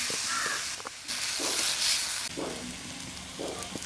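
Onions and green chilies frying in a pan for Malabar-style chicken ularthiyathu, a steady close sizzle and hiss with brief stirring sounds, no talking.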